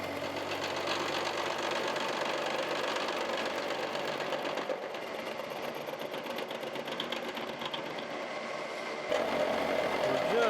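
A steel work-holding fixture for steam locomotive connecting rod bearings is machined on a mill, its steady droning cut with a chattering, nibbling texture, briefly easing midway and then rising in level.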